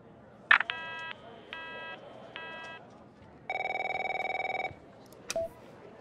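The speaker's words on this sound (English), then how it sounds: "My phone's ringing off the hook here." A telephone rings in a video game, with several short bursts of electronic ringing followed by a longer buzzing tone and a brief beep, crisp and close with no talking.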